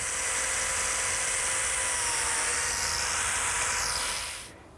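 A biscuit joiner cuts a slot into the end of a wooden table rail, a steady high-pitched motor whine and cutting hiss held for about four seconds before winding down and stopping.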